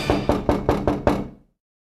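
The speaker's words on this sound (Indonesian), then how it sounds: "tiba-tiba terdengar suara ayah yang mengetuk pintu rumah." Knuckles rap on a house door in five evenly spaced, sharp knocks, close and clear, then silence.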